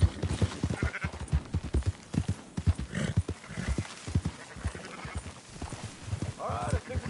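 Sheep bleating amid horse hooves clip-clopping in a PS4 video game, several bleats and whinnies mixed with rhythmic hoofbeats under people talking.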